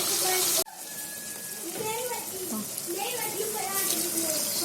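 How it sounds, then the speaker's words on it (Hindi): Water is poured into a pot of lobia chicken curry with potatoes, a loud rushing splash for about half a second that stops abruptly, followed by a person talking over a quieter cooking background. "ये यहाँ पे हम पानी ऐड कर देंगे।"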